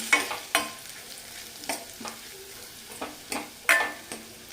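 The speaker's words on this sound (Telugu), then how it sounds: "వెంటనే దీన్ని ఒకసారి ఇలా కలిపేయండి." A spoon stirs tomato rasam mixture frying in a pan, with a string of distinct scraping and clinking strokes, roughly one every second, over a low, steady sizzle.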